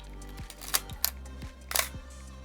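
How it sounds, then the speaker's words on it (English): A Nikon F3 film camera's shutter fires at 1/60 via the manual release, with a few sharp mechanical clicks close up over a steady low hum. "the 1/60th of a second shutter speed, which you can fire using the manual release down here on the front"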